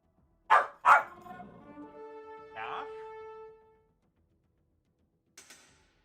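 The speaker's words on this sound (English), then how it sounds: "I have a Corgi barking at me." Corgi barking indoors, two sharp close barks followed by a drawn-out whining howl, then a faint short yip after a pause.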